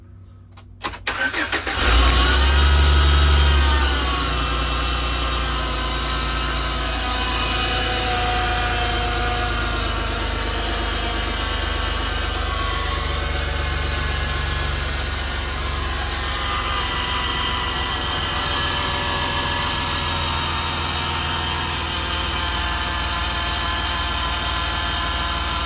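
A 2008 Chevy Express van with new spark plugs and plug wires cranks briefly and fires up, then settles into a steady, even idle that runs on alone for over twenty seconds, close and prominent.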